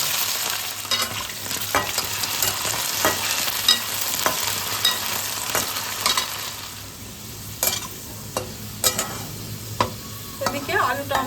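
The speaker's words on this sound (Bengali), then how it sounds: "আমি বেশ কিছু আলু ভেজে নিচ্ছি।" Potatoes frying in mustard oil in a wok, a steady sizzle punctuated by frequent spatula clicks and scrapes as they are stirred, with no talking.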